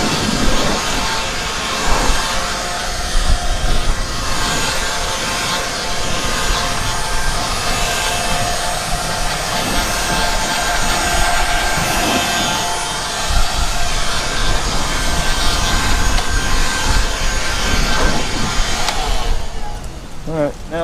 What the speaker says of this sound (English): now we got our old blowing apparatus here